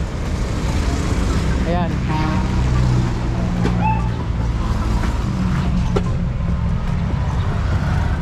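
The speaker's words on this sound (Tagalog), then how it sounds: "Okay, K6A ang makina nitong kulay blue nito na minivan." A Suzuki K6A engine idles in a blue minivan at a mini van display center, a steady low rumble running beneath loud nearby talking and other background noise.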